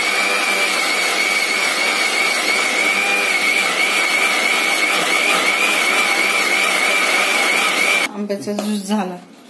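An electric mixer-grinder blends mango pieces with sugar into juice, a loud, steady whirring motor with a constant high whine lasting several seconds before it cuts off and someone speaks briefly.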